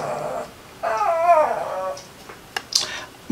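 A puppy whines in a high, wavering howl-like whimper for about a second indoors. Quieter background sounds and a few brief clicks and yips follow.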